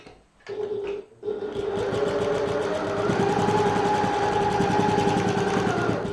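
A sewing machine runs steadily stitching lines along a bag strap, a close, continuous rapid whir with a brief pause after a short start and then unbroken running to the end.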